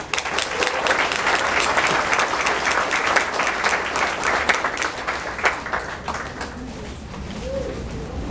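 Audience applause for event sponsors at a community show, steady dense clapping that tapers off, with pigeons cooing faintly in the background.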